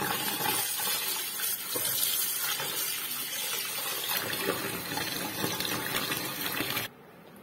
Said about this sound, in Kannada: ಇವಾಗ ನೀರು ಹಾಕಿ ನೆನೆಸ್ತಾ ಇದ್ದೀನಿ